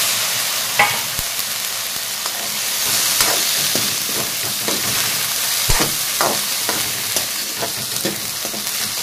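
Soaked chickpeas being stirred in a frying pan, with a steady sizzle and scattered scraping clicks from the spoon against the pan. The sound is close and continuous, and no one speaks.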